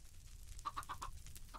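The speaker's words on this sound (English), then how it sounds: "Processing baby chickens." Chickens clucking in Minecraft's Sky Factory modpack, four quick pitched clucks in a row, fairly close and clear over a low steady background hum.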